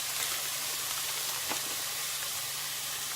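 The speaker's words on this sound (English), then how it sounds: "I'm going to be dumping it in the pan. Hear the sizzle?" Frozen cauliflower rice sizzling in a pan, a constant soft hiss and crackle of steam close by, fairly quiet and steady throughout with no talking.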